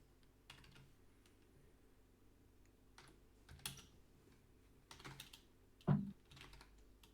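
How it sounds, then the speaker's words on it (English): One finger types slowly on a computer keyboard, producing sparse, irregular key clicks with pauses between them. A sharper, louder tap comes near the end. The clicks are quiet and close against a low background hum. "One finger typing going on here"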